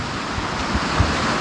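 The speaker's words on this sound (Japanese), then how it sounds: "これだけボッコボッコと波が立ってる、あの下の岩の隆起で立ってるんですけど" A swollen river rushing over submerged rock ridges and kicking up choppy standing waves, a loud continuous roar of churning water with gusty low rumble, close and without speech.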